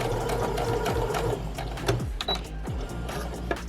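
A sewing machine stitching close to the edge of a reusable fabric face mask, a rapid mechanical whir broken into short bursts with a few clicks and pauses, near and clear with no talking.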